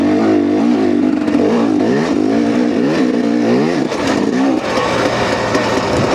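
A 250cc two-stroke dirt bike engine revs hard in rising and falling sweeps, loud and close, with repeated throttle blips and no talk.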